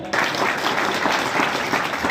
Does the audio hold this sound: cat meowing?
no